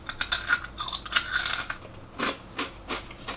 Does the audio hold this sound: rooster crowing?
no